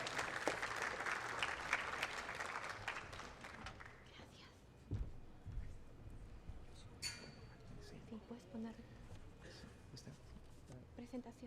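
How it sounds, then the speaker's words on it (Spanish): Audience applause for a guest speaker at a university lecture on legislation and case law about violence against women, loud and dense at first, thinning out after about four seconds, with scattered claps and a few thumps over a quiet hall. "recibamos con fuertes aplausos"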